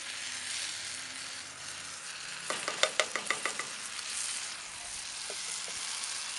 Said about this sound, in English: Give that a little stir about.